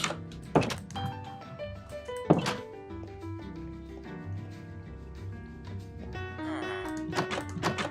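Two separate wooden door clunks sound in the video game Minecraft, sharp and close, over soft continuous game music.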